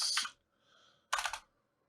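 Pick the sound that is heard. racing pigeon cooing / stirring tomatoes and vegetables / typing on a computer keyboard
typing on a computer keyboard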